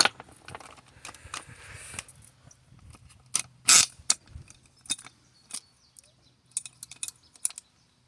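Scattered metallic clicks and ratcheting ticks from a wrench turning during a 1.8T engine swap on a 2002 VW Passat, with a few sharper clanks standing out, close up and fairly quiet.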